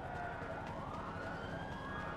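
Police sirens in a cops-and-criminals video game, a wailing electronic tone that rises and falls continuously, heard faint and distant.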